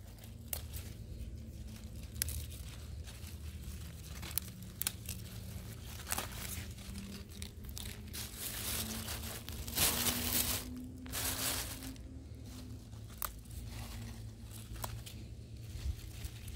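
Green plant stalks in a garden patch are snapped and broken off by hand, giving a series of close crisp cracks, tears and rustles scattered irregularly over steady background noise.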